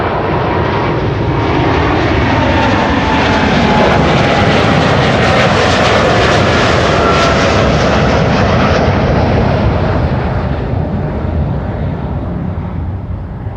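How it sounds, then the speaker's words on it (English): Delta Airlines jet airliner at Amsterdam Schiphol Airport, a loud, steady broadband engine roar that holds near and constant throughout, swelling slightly mid-way and easing a little toward the end. "Delta Airlines flight 75, up next to Atlanta,"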